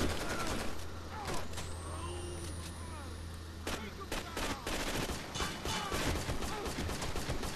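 Rapid automatic gunfire from a machine gun in the video game Rainbow Six Vegas 2, dense bursts of cracking shots with rumble underneath, loud and close, with people talking over it.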